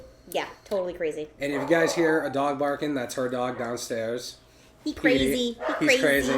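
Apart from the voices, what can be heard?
dog barking downstairs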